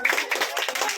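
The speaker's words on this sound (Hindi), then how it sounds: "दियांश के लिए जोरदार तालियां।" A room of schoolchildren claps for a classmate who read well in class, a dense, slightly uneven patter of small hands lasting about a second, close and lively.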